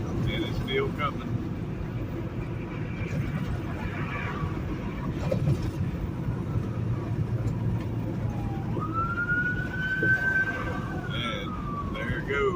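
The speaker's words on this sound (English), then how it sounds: "It's an ambulance, and it's still coming." An ambulance siren wails along the road, heard from inside a truck cab over a steady drone of road rumble. The siren's sweeping tone rises and glides clearly in the last few seconds.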